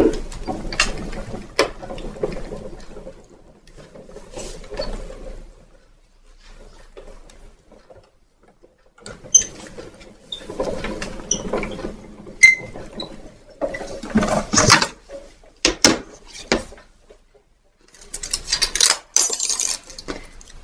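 A Joy Crafts Trouvaille die-cutting machine cuts a stamp shape, giving irregular mechanical clicks, clacks and ratcheting bursts separated by quiet gaps, close and fairly loud, with no talking.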